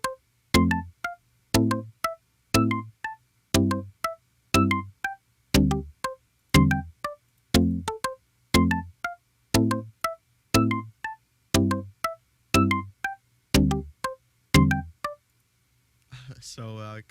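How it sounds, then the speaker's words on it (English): Plucked, muted guitar notes from the Nexus synth plugin, dry and unprocessed, repeat in a steady rhythmic pattern of short, percussive, bright attacks over a low sustained bass tone, close and clear with no talking. "look for your own plucked muted guitars"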